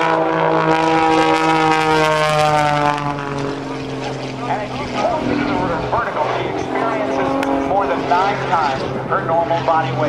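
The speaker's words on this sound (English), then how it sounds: "This 300-horsepower engine with an MT propeller on the front is one of the highest-performing aerobatic aircraft in the world." At a 2008 naval air station airshow, an Extra 300 aerobatic airplane with a 300-horsepower engine and MT propeller roars with a rising, shifting engine drone while an announcer talks over it.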